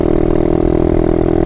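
Apollo 125RFZ motorcycle with a suspected blown motor running rough, a close, loud steady engine drone with a pulsing throb and no clear rise in pitch.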